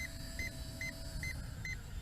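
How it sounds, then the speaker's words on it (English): A Holystone HS165 foldable GPS drone's remote control beeps steadily, short double beeps repeating about every half second over a low rumbling background. "the remote control is just beeping away"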